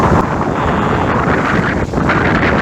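Strong wind on an island in Honduras buffets the microphone in a steady, loud roar, with rushing gusts filling the whole clip and no voices.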